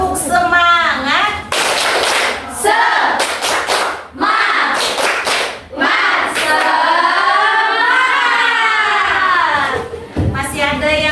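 A group of children in a classroom perform the 'tepuk semangat' clapping chant, loud rhythmic bursts of claps alternating with shouted, sing-song chanting voices, close and energetic.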